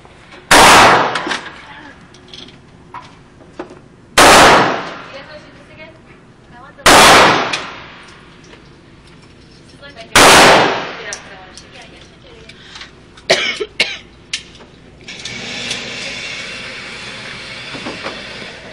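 Four sharp, loud gunshots from a Phoenix Arms HP22A .22 pistol ring out at spaced intervals, each with a short decaying echo, followed by fainter clicks and handling noises; a few quiet voices are present.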